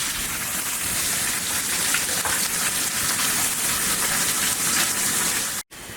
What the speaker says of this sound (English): And we want to start pan searing our tilapia.